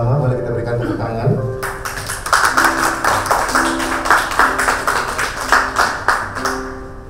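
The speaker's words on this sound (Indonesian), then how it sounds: "Mari kita berikan tepuk tangan." Rhythmic applause for the parents of the bride and groom at a wedding, steady clapping from a crowd rising after a speaking voice and continuing loudly with an announcer's voice over it.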